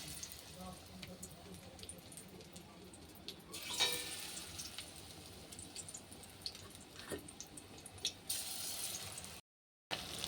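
Duck eggs, their openings sealed with flour dough, frying in hot oil in a wok, giving a steady low crackle and sizzle with a louder burst partway through, under faint background noise.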